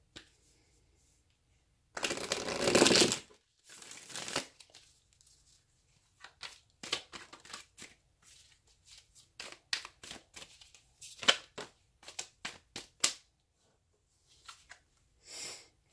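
Cards being shuffled up close: a long riffling burst, then a run of quick, crisp flicks and taps in irregular bursts, with no voices.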